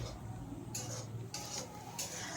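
A spoon stirs cooked okra (bhindi) in a pan, giving a few brisk scraping sweeps over a steady background hiss, three distinct strokes, close and moderately loud.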